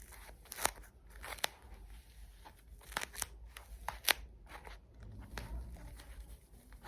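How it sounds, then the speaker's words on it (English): A used sanitary pad is folded, giving close, faint crinkling and crunching of plastic and paper with scattered sharp crackles over about seven seconds. "You fold your used pad."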